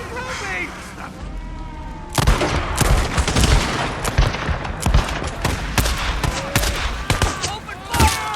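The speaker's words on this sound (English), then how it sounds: "Open fire!" Gunfire in the video game Days Gone: a rapid, loud volley of overlapping gunshots breaks out after about two seconds and keeps cracking irregularly, with shouting voices underneath.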